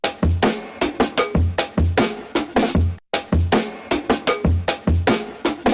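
A chopped drum break processed with EQ and compression, punchy kicks and snappy hits repeating in a steady looped groove with a brief gap midway, loud and up front with no talking.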